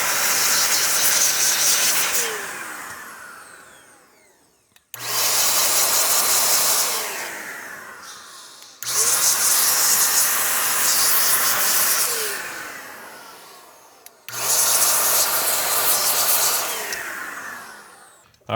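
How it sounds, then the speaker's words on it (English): Compressed air blasts through a laptop heatsink in four loud, close bursts, each a strong roaring hiss lasting a few seconds with a short pause between. "then we'll blow compressed air through it"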